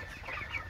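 Chickens cluck softly in a brief, close moment with low background noise.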